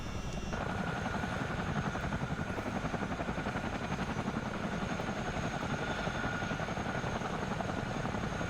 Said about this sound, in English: Been using the forward thrust of the mainly the front rotor to pull us along the ground here.